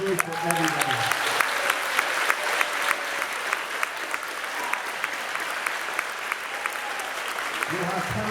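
Steady applause from a middle school audience at an awards celebration, sustained for several seconds with a loud, even crowd clapping throughout and brief voices at the start and end.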